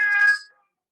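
A single short cat meow plays in a physics lesson on circular motion. It is loud and close and fades within half a second, with nothing else heard.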